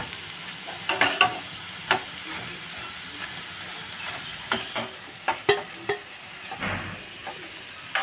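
Crispy masoor lentil onion fritters deep-fry in hot oil, a steady bubbling sizzle nearby broken by sharp scrapes and clinks of utensils, with no voices.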